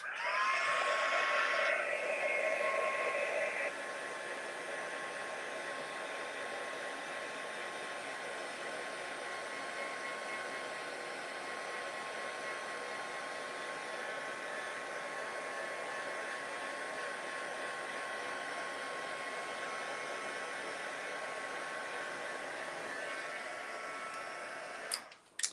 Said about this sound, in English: All right, let's just give this a quick little heat set.